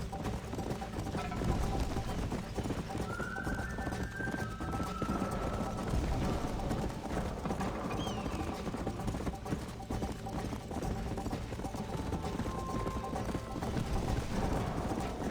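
Steady clip-clop of horse hooves trotting along in the video game Red Dead Redemption, with faint mechanical clicks and a soft background hum throughout.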